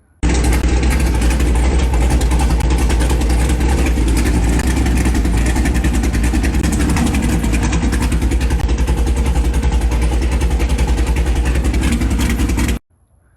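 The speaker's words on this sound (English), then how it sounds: "The engine is idling in this video" A car engine idles loudly and steadily up close, a constant low rumble that cuts off abruptly near the end.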